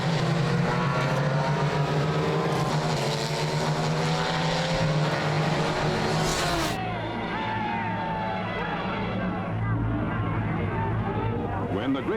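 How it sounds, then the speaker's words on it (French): A field of sixty sports cars races at the Le Mans 24-hour race. Loud, sustained engine roar and whining pitch sweeps fill the whole stretch, mixed with a voice talking over the noise. "The 60 starters are in their stride, thundering away to gain that early lead"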